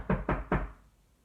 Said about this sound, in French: cogné à la porte.